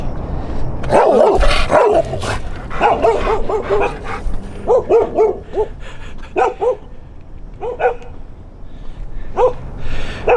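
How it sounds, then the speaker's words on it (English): Several dogs bark in scattered bursts on a hillside hiking trail above Tsuen Wan, Hong Kong, some sharp and loud, others yapping at a distance, with a few whimpers between barks. "Well, there's the dogs over there."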